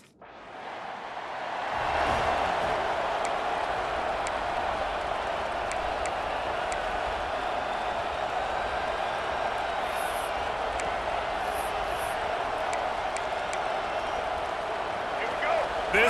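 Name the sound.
stadium crowd at Oklahoma Sooners college football game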